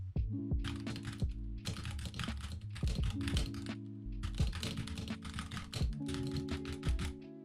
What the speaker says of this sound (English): I'm gonna start typing, like as if I'm actually typing something important,